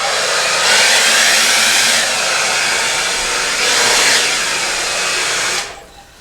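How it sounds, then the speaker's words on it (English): A hair dryer roars steadily at close range, blowing on wet acrylic paint on canvas, its airflow swelling louder twice before the motor winds down and stops. "I'm going to blow this blow dryer and get some paint"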